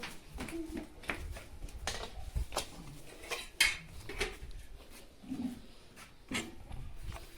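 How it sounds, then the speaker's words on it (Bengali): Knife chopping potatoes in a village kitchen, a series of sharp clicking cuts against a board with some clinking of utensils, fairly close and steady throughout, with no talk. "আলু কাটবো।"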